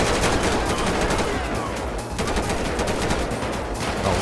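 Rapid, dense gunfire fills a GTA 5 shootout against a SWAT team, a loud continuous barrage of overlapping shots with no pauses and no voices on top.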